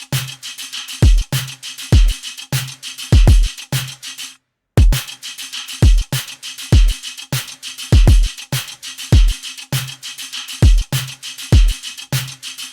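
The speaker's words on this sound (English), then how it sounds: "See how much fatter it sounds with the convolution enabled?" A snare sample run through convolution reverb with a synth sample layered underneath, giving each of the many steady, repeated hits a fatter, bass-heavy body; loud and continuous with one brief gap and no talk.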